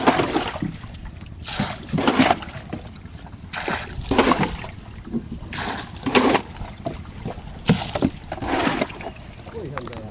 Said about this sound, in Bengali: হেউতি দিয়া পানি সেচতেছি।